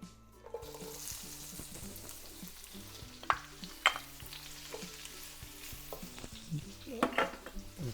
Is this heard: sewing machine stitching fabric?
no